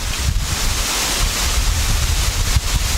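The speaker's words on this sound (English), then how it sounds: "We're here at Wilson Dam. That's one of the waterfalls that are in the area." Waterfall at Wilson Dam on the Tennessee River: a loud, constant broadband roar of rushing water mixed with wind buffeting the microphone. It stays steady throughout, with no voices.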